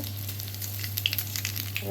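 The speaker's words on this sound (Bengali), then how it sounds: "ফোড়নে দেবো একটু কালো জিরে" Black cumin seeds dropped into hot oil for tempering crackle and sizzle, a steady close spatter with small sharp pops over a low hum.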